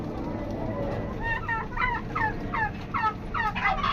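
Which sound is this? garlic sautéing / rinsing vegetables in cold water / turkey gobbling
turkey gobbling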